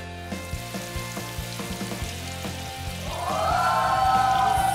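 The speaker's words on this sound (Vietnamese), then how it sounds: "Lăn viên thịt hấp qua bột chiên giòn và thả vào chảo ngập dầu." Breaded steamed frog meatballs dropped into a pan of deep oil, crackling and sizzling up close, with soft bubbling that swells into a steady, louder frying hiss.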